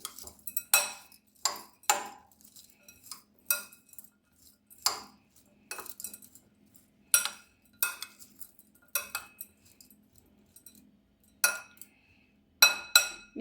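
A metal spoon stirring poha in a bowl, giving sharp intermittent clinks and scrapes at an irregular rhythm, close and fairly quiet with near silence between strokes.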